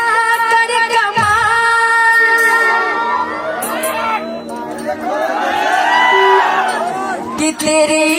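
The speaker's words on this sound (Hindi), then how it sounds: "तो बस ऐसे चिल्लाते रहिएगा तो मजा आएगा मुझे" Audience at a Bhojpuri stage show shouting, whooping and cheering loudly and continuously, a dense crowd roar with music playing throughout.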